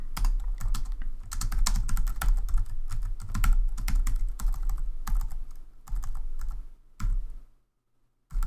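Continuous rapid typing on a computer keyboard during a coding session, dense clattering keystrokes close up, stopping briefly near the end before a final tap.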